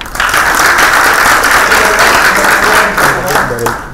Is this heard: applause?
yes